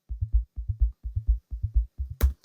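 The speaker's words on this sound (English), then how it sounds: "You might not be able to hear it very well because it is pure sub bass, it's just a sine wave, but it sounds like this." Pure sub bass sine wave in a house music track, pulsing in short, deep, rounded notes in a steady bouncing rhythm, low and smooth, with a brief brighter hit near the end.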